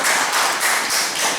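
An audience applauds at a gathering, a dense, loud burst of many hands clapping that swells and fades in waves over a short stretch.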